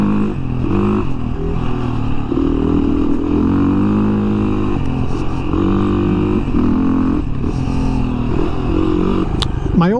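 A 2017 Beta 500 RR-S dirt bike engine roars steadily and loud up close during a ride, with throttle swells and clattering, and a voice faintly under it.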